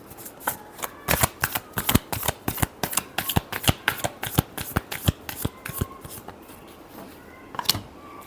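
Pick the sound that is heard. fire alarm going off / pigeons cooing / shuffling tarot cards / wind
shuffling tarot cards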